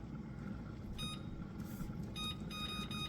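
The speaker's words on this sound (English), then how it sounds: "Set my timer." A kitchen timer being set while rice cooks on low heat gives short, faint electronic beeps in a few quick bursts over a quiet room background.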